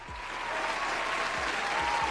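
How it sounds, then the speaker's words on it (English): A crowd gives a round of applause in a steady, dense burst of clapping that holds at an even level throughout, with a few low thumps underneath. "Give her a round of applause."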